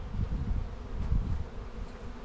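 Honeybees hum in a bee yard at an apiary, a dense continuous low buzz that swells and fades slightly, with no talking over it.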